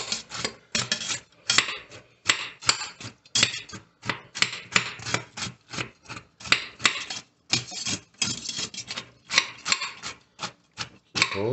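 Bread chopped with a knife for homemade breadcrumbs, a rapid run of sharp, close taps on a cutting board in irregular bursts with short pauses, and no talking.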